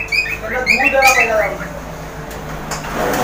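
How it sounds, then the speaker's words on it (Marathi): A parrot lets out a quick series of shrill, rasping squawks up close, then falls quiet against a soft background hiss. "हे आमचे पोपट बघा, पक्षी"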